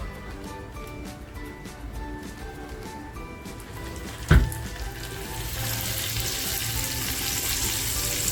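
Tarli fish fry in hot oil in a pan with a steady, close sizzle and a brief loud clatter partway through, after which the frying swells louder and denser.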